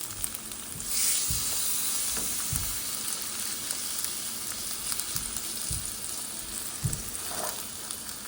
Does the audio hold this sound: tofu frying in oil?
yes